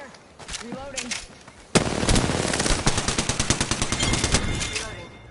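In a PS4 shooter video game, a short voice-like sound comes first, then loud, rapid automatic gunfire erupts in sustained bursts of tightly spaced shots that continue to the end.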